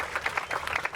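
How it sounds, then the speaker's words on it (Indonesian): A Balinese bondres comedy show audience claps in a brief, dense burst of applause, steady and moderately loud for about a second with no talking over it. "tidang nunas tepuk tangan buat Pak Ketut."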